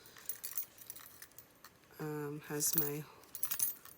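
Six house, work and car keys jangle and clink softly inside a Gucci GG Marmont leather key case, quiet and close, with a brief spoken voice in the middle.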